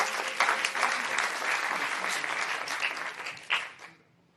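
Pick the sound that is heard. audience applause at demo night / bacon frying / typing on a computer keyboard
audience applause at demo night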